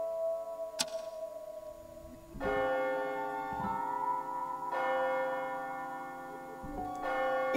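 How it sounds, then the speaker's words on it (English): A church bell in AI: The Somnium Files tolls midnight in slow, ringing strokes, each resonant clang swelling and lingering into the next, heard alone without voices. "Is that the bell?"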